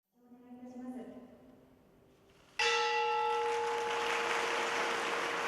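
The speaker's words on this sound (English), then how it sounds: "The ceremonial bell signaling the opening of the market was rung by Japanese Finance Minister Taro Aso" A ceremonial bell at the Tokyo Stock Exchange marks the market opening, rung by Japan's Finance Minister: after a soft, fading tone, one loud strike rings out and sustains as a bright, steady hum.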